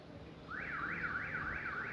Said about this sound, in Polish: jeszcze się gdzieś tam alarm włączył.